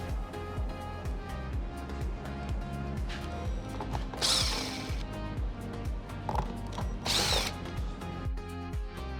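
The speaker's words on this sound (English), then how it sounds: "So the next step you're going to do is remove this plastic housing for the camera. There are 4 10mm screws you need to remove." Ratcheting wrench backing out four 10mm screws from the plastic camera housing on a 2025-2026 Ford Explorer, giving steady clicking pawl bursts with a few brighter spinning whirs, close and fairly quiet, with no talk.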